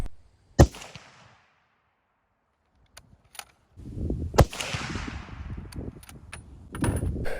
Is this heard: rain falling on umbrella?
no